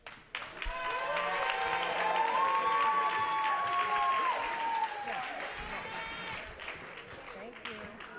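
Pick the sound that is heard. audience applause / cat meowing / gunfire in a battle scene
audience applause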